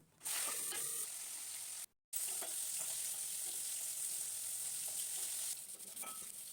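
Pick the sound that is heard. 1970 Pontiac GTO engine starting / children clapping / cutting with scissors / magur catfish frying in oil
magur catfish frying in oil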